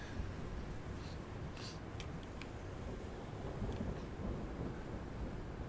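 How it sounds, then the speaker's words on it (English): A thunderstorm in the Conan Exiles Isle of Siptah video game rumbles steadily with low rolling thunder and rain-like hiss, a continuous moderate wash with a few faint crackles. "Now the storm's going."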